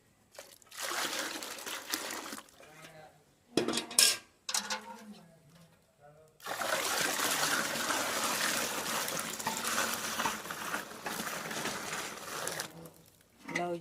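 Water poured in a steady, splashing stream into a large cooking pot while preparing mustard greens, running in long continuous pours broken by brief pauses and a few clinks of metal.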